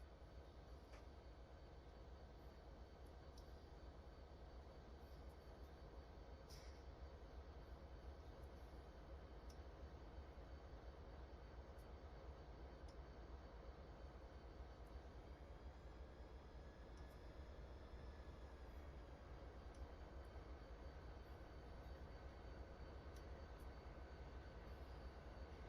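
Locomotive engines run in Train Simulator 2021 on the Tehachapi Pass route, giving a steady, unbroken low rumble with a faint high whine for the whole stretch. No one speaks.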